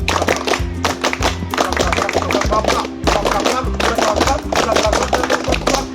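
A classroom of students clap a counted rhythm together in repeated bursts of sharp, even claps, loud and close, while a steady low musical backing plays underneath.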